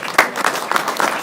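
A round of applause at a school district board meeting, with a few distinct louder bursts of clapping over a steady patter from the room, fairly close and moderate in volume.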